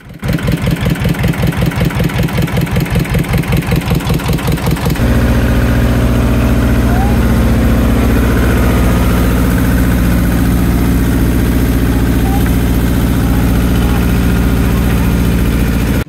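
A fishing trawler's engine idles at sea on the Bay of Bengal. A fast, heavy chugging starts things off, then settles into a steady, loud, droning hum. A voice talks faintly over it.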